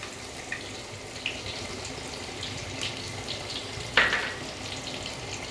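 Onion, ginger and garlic paste hits hot oil in a pan while chicken dalcha is cooked, giving a steady close sizzle with a sharper hiss burst near the end.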